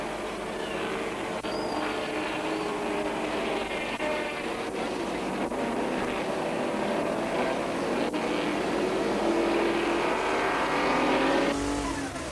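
Racing cars at the Kyalami circuit in South Africa during the 1992 Ultimoil Supercup roar past continuously, engines loud and sustained with rising revs near the end.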